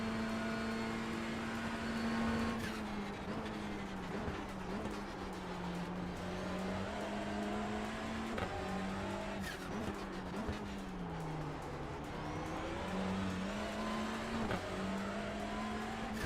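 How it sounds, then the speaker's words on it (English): Ford Mustang race car engine in iRacing during an IMSA Michelin Pilot Challenge race, a steady droning tone that rises and falls with gear changes and throttle, continuous and fairly close throughout. "Sounds like a Mustang."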